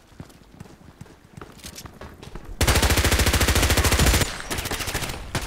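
Sustained automatic gunfire from an H&K MP5k submachine gun in the shooter game Contract Wars, a rapid even burst of loud close shots, preceded by scattered softer clicks and game noises.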